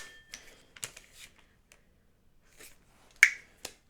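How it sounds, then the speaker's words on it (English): A suppressor is rotated and tightened onto a muzzle, giving a handful of sharp, isolated clicks spread unevenly over a few seconds. The clicks are quiet and close, with silence between them and no talking. "all I'm doing is rotating this, tightening it, and you can hear that clicking"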